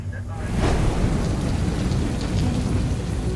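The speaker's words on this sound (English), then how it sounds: "Rain has been hitting Guam on and off all day." Heavy rain pours down during a thunderstorm on Guam in the rainy season, a continuous dense hiss of falling water with deep thunder rumbling underneath for the whole few seconds.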